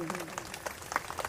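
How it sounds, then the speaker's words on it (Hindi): Applause from a devotional audience at a Hindu Bhagavat katha discourse, a dense patter of clapping sustained through the clip, moderately loud with a noisy hall background. "एक बार जोरदार तालियां हो जाए"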